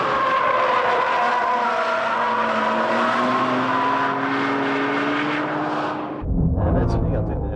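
A Honda NSX and a Nissan Skyline R32 GTR race uphill through a hairpin, loud engines wailing with rising and falling pitch, a brief tire squeal and a sudden cut to a different engine roar near the end.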